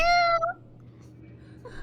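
A house cat lets out a single clear, drawn-out meow close to the microphone, followed by quiet room tone and a faint trailing sound.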